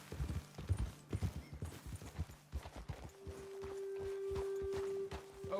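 Horse hooves walking in Red Dead Redemption 2, a steady clip-clop of several footfalls that slows and fades, followed by a sustained low tone under quiet ambience.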